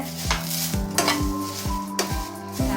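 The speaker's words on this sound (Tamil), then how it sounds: "கீரை ஏற்கனவே நல்லா காஞ்சிட்டு சும்மா ஒரு வதக்கு வதக்குனா இன்னும் கொஞ்சம் கிறிஸ்பி ஆகிடும்" Dried vallarai (brahmi) greens are stirred in a pan, with a spatula scraping and clanking against the metal in a regular rhythm, about twice a second, over a light, dry sizzle.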